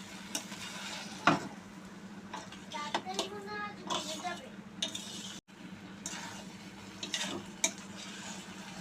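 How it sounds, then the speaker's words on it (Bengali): A spoon stirs a dish seasoned with garam masala powder in a sizzling pan, with repeated scraping and clinking strokes over a steady frying hiss. "গরম মশলার গুঁড়ো দিয়ে ভালো করে নেড়ে চেড়ে নিচ্ছে"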